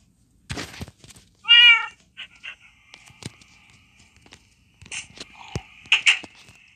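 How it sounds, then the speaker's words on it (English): A synthetic cat meows once loudly, then scattered soft game sounds, thumps and a few quieter mews follow. "Hello, kitty on the side of me."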